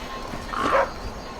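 A dog in The Flame in the Flood survival video game lets out a single short bark, fairly close and clear over quiet background ambience.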